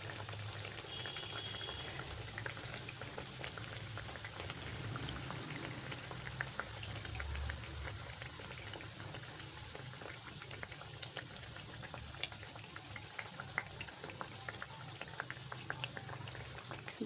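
Sabudana vada deep-frying in oil, a steady low bubbling and crackling fizz that continues faintly and evenly throughout, with no voices.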